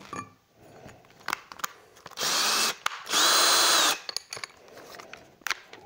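A Ryobi LLCDI18-LL25S 18V cordless drill screwdriver runs in second speed with a bit fitted, two loud steady whirring bursts separated by a short pause, with clicks and handling noise around them.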